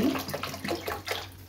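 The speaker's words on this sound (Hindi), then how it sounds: "इसमें पानी ऐड कर दिया है" Water is poured or runs steadily into a pot of rice in a home kitchen. The splashing and gurgling is close and continuous, and no one speaks.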